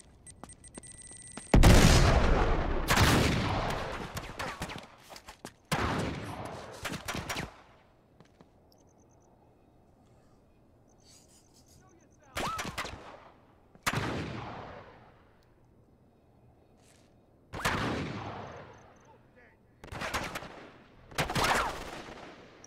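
Gunfire in Uncharted 3, played on PS4: several loud bursts of shots, some clustered into rapid volleys, separated by quieter gaps of low background ambience, with no talking.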